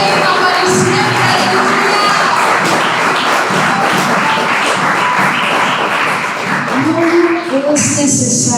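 A church congregation applauds and cheers in worship, a loud, dense crowd roar of clapping, thumps and shouts filling the hall with voices rising through it.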